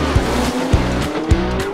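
Formula Drift race cars topping 1,000 horsepower drift at Utah Motorsports Campus, engines roaring loud and close with continuous tire squeal and rhythmic bursts as they slide.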